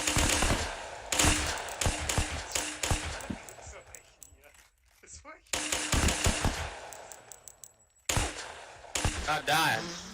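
Guns firing super BB rounds on command let off loud, close bursts of rapid automatic fire in several volleys, broken by short quiet gaps, with voices now and then.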